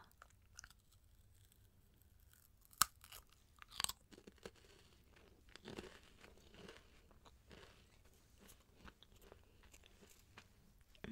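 Typical saltine crackers being broken and eaten up close: sharp crisp snaps followed by irregular bursts of crunchy chewing, quiet and intimate with no talking.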